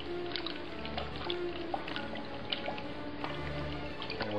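Water rinsing bleach out of tie-dyed fabric, a continuous muffled trickle and splash with faint squishing of wet cloth, steady and close.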